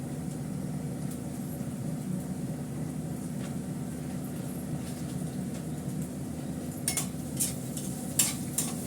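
Food fries gently in plenty of butter over low heat: a steady soft sizzle with occasional stirring clinks of a utensil toward the end.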